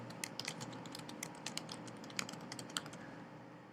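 Someone types in text on a computer keyboard while writing an x86 assembly program, the keys landing in close, uneven clusters of sharp clicks with brief pauses between bursts and no talking.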